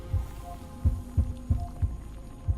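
A low, thudding heartbeat in the video game Honkai Star Rail pulses steadily about five times over a soft hum, close and alone.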